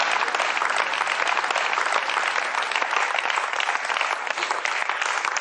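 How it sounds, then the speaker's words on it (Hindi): An audience gives loud, vigorous applause to welcome a poet, a dense and unbroken roar of clapping at an even level throughout. "जोरदार तालियों से स्वागत करें"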